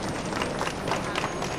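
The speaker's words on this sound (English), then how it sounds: "Round of applause." An outdoor crowd at a UN rally for three kidnapped Israeli teens breaks into steady, dense applause, clapping continuously and at close range throughout the short stretch.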